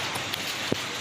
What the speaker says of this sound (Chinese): 还有呢这个下雨的声音。